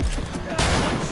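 A shotgun blast in the video game Cyberpunk, with one sharp report followed by a second strong burst in a short, loud, dense moment of gunfire.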